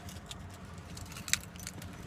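A bunch of keys jangles briefly close by, a few light metallic clinks with one sharper jingle, placed into a basket in a quiet room.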